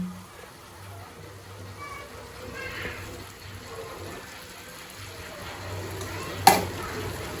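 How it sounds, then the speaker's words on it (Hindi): Water added to mutter paneer bhurji masala in a pan, a soft sizzle with scraping stirring and one sharp clink of a utensil, faint background music underneath. "सब्जी में थोड़ा सा पानी डालेंगे ताकि सारे मसाले अच्छे से मिक्स हो जाए"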